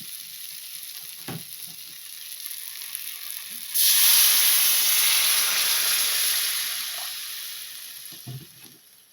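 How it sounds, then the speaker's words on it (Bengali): Water poured into a pan of frying tomato masala sets off a sudden loud, steady sizzle that starts a few seconds in, after a quieter hiss, and slowly fades toward the end. "ভাজাটা কমপ্লিট হয়ে গিয়েছে। এখন আমি একটু জল দিয়ে দেবো।"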